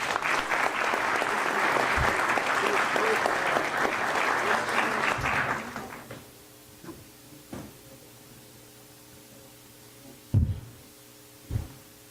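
Applause at a formal Brazilian heraldry society year-end ceremony, a dense wash of clapping for about six seconds that cuts off, leaving a quiet room with a few scattered knocks and thuds.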